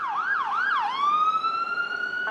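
An ambulance siren wails close by, sweeping up and down in a few quick yelps before settling into a long steady tone, loud and alone.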